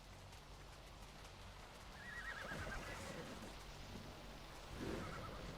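A horse in a small paddock lets out a faint, distant whinny, followed by a few soft hoof clops and rustling in a quiet outdoor setting.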